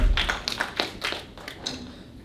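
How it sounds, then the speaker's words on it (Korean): A small church youth congregation claps after a prayer, a few close, sharp, uneven claps that thin out within a couple of seconds. "우리 하나님께 영광의 박수 올려드립니다"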